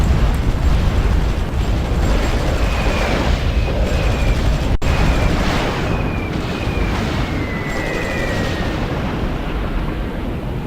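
Bombs going off in a Supreme Ruler Ultimate war game, a dense continuous rumbling roar of explosions with no gaps, loud and steady throughout, faint whistling tones drifting over the top.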